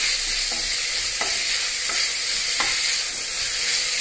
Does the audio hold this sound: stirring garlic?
yes